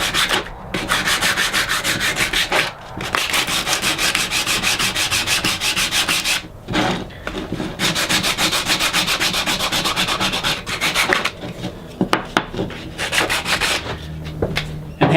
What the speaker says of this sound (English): So we're gonna sand it for a minute here.